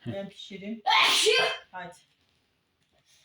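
A single loud, sharp sneeze bursts out near the microphone indoors beside a wood stove where yufka flatbread is being cooked, framed by brief talk just before and a short voice right after.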